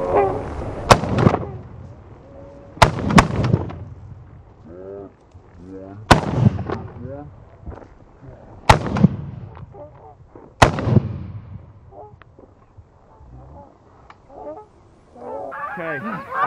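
Shotgun blasts from hunters firing at geese in Wyoming, five loud sharp reports spaced a couple of seconds apart, with geese honking between and after the shots.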